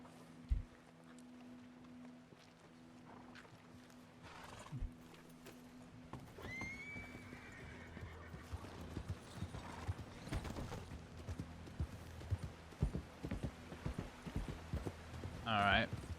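Horses in the Red Dead Redemption 2 game world, hooves clip-clopping at a walk with an occasional whinny, fairly faint under a low ambient hum, with mechanical clanks and louder knocks near the end.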